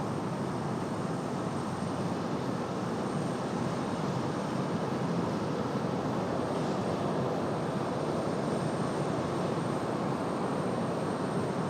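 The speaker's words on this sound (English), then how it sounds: "ATR 42300 coming in from ILM." Continuous loud engine roar of an ATR 42-300 turboprop arriving at Raleigh-Durham Airport from ILM, dense and steady from start to finish with no other sounds on top.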